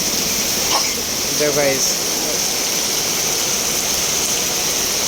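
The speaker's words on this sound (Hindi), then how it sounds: "देखो कितनी तेज़ बारिश पड़ रही है गाइस" Heavy rain pours down onto a flooded road, a dense, continuous hiss that runs the whole time while someone talks over it.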